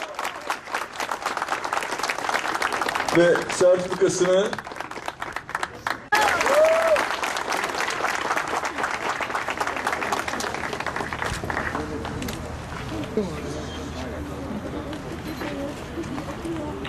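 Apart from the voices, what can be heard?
audience applause at an event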